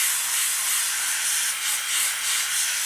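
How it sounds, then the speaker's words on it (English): Airbrush spraying black paint onto the rubber tyres of a Tamiya 1/48 Spitfire Mk.1 model kit, a steady close hiss of air with slight pulses in intensity, heard alone. "Right, so we've got some black spraying through, just like that."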